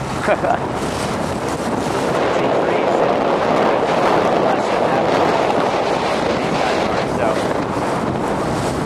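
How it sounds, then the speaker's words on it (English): Strong wind roars across the microphone aboard a racing sailboat, a loud, dense, continuous buffeting rush with water and hull noise beneath, while a voice talks faintly under it. "this is big wind"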